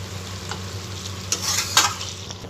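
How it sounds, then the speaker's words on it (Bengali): Prawns and bottle gourd stir-frying over high heat in a pan, a constant low sizzle broken by a few brisk spatula scrapes, close and unaccompanied by voices. "আমি একটু আঁচটা জোর করে নিয়েছি, নিয়ে এইভাবে কষতে থাকবো"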